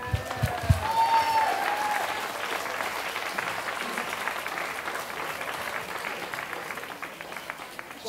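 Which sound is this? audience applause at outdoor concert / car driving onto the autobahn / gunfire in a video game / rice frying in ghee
audience applause at outdoor concert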